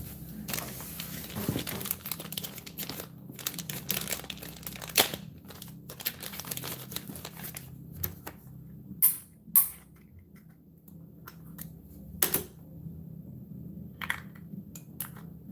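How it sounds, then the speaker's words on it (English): Rustling, creaking and crinkling of packing material as items are pulled from a cardboard box, with a few sharp louder clacks and rattles, close by and without talk. "Get everything out of the box you don't need."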